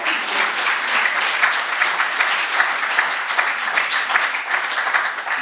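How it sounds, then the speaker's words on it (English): A lecture-hall audience at an architecture talk applauds a speaker, Michael Meredith, with dense, steady clapping from many hands that holds evenly throughout, with no voices over it. "Give Michael Meredith a round of applause."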